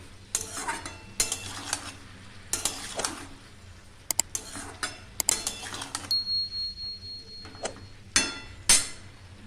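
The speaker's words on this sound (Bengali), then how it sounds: "আবার আমি নাড়িয়ে দেবো।" Fish and ridge gourd are stirred in a pan, with a spoon scraping and clinking against the metal in irregular bursts over a soft, steady sizzle, close and clear with no talking.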